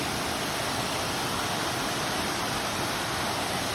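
Beecher Cascade, a mountain waterfall on a muddy hiking trail, pours in a steady, loud, broadband rush of falling water that holds constant throughout with no voices.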